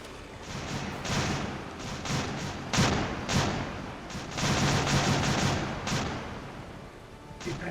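Naval guns fire repeatedly in the Victory at Sea Atlantic warship game, a run of broad booming salvos and rumbling blasts at irregular intervals, loud and continuous over a low churning background.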